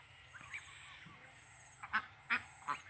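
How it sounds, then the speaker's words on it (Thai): Egg-laying Thai Ileang ducks in a backyard home garden give several short quacks, faint at first and then louder in a quick cluster near the end, over quiet outdoor background. "ซึ่งเป็ดอีเหลียงในเดือนหน้า ก็น่าจะเริ่มให้ไข่แล้วนะครับ"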